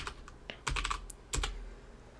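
A computer keyboard being used to type a password produces a few quick bursts of close, crisp clicks separated by brief pauses.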